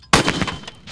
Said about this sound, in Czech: Ranou zděla akci zahájila historická skupina císařského pěšího pluku.